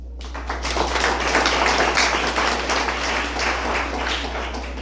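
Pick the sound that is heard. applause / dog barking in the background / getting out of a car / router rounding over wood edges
applause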